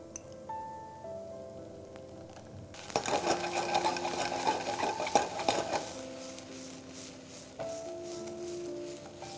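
Onions cooking with ginger garlic paste for a shrimp stuffed papad filling, stirred in a pan: steady near scraping and clinking of a utensil, louder and busier in the middle stretch, with sizzling underneath and no talking.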